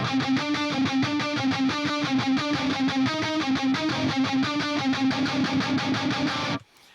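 Heavily distorted electric guitar through a Line 6 Helix, chugging in a fast, steady palm-muted rhythm with a tight metal tone, loud and continuous, then cutting off abruptly near the end.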